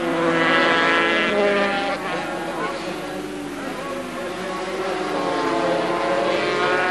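250cc racing motorcycles screaming around the 1987 Donington circuit, high-pitched two-stroke engines rising and falling as they accelerate and shift, loud and continuous beneath a commentator speaking German.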